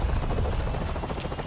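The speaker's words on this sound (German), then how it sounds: "Kann ich nicht direkt den Heli hier wegklatschen?" A helicopter from Avatar Frontiers of Pandora gameplay throbs in a loud, close, continuous rotor chop with dense low rumble, steady throughout with no talk over it.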